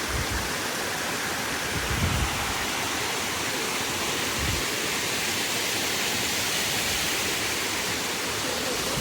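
A full-flowing Katiki waterfall in Araku thunders nearby in a constant, loud, broadband rush of cascading water, with no pauses and no speech over it.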